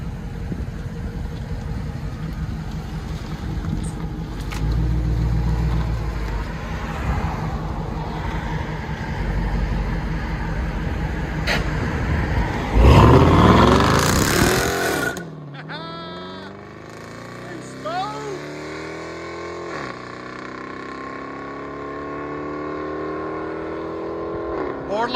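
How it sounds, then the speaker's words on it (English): A 2017 Dodge Charger R/T 5.7L HEMI V8 with a BORLA ATAK axle-back exhaust and mid muffler delete rumbles at idle, then revs hard in a loud roaring burst before settling into repeated rising revs. "2017 Charger with a BORLA ATAK axle back, mid muffler delete."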